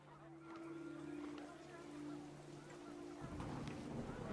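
Panicked geese honking in the video game What Remains of Edith Finch, a few sustained honks over wind and rumbling weather, with a faint voice beneath.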